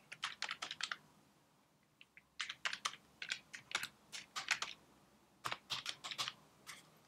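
An email address being typed on a computer keyboard during a software setup, with crisp, close key clicks in quick clusters separated by short pauses, no voices.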